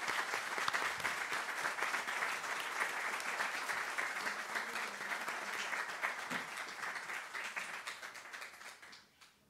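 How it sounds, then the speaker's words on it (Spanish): A large audience applauds speaker Alicia Oliver at a historical novel week event in Cartagena, with dense, sustained clapping that holds steady for several seconds before tapering off at the end. "Vamos a darle un caluroso aplauso a Alicia Oliver."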